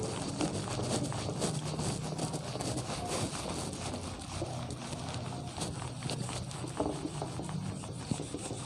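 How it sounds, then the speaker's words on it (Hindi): Continuous rubbing as writing is wiped off a board, a steady, dense scratchy swish lasting several seconds, fairly close and with no voice over it. "मैं इसे रब कर देता हूं एक बार।"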